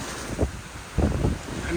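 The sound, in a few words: ship cutting through ocean water in wind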